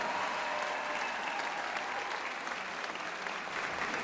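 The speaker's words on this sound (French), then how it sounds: "D'applaudir la chorale du collège de Cassel, du collège Robert Le Frison." A concert audience applauds a school choir from the Collège Robert Le Frison in Cassel, a dense, steady wash of many hands clapping that holds at an even level for the whole stretch, with no voices rising above it.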